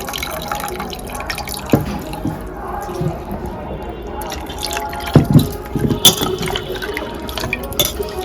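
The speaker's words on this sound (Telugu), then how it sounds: "ఇప్పుడు చింతపండు పులుసు పిసుక్కొని పోసేసుకుందామండి" Squeezed tamarind juice poured into a pan of small-fish curry, a wet dripping and splashing that runs throughout with a few louder splashes near the end, close and fairly loud with no talk.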